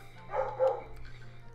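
A dog barks faintly in the background, two soft muffled barks close together over a low steady hum.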